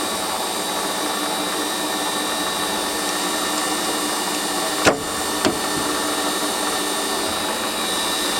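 A Warco metal lathe runs while a 9.9 mm drill bores through a workpiece, a steady droning machine hum broken by two brief sharp clicks near the end.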